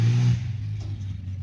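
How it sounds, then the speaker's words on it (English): A Ford engine fitted with 19 lb/hr VW injectors runs very rich, holding a steady, close, low engine drone that eases slightly in pitch after the first moment. "that's the Ford back on top a little bit. It's running real rich."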